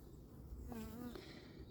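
Faint buzzing of honeybees at a hive in an apiary, with a passing insect drone rising and falling in pitch, over a low background rumble.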